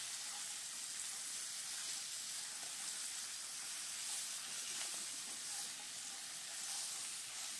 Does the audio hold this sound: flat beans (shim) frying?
yes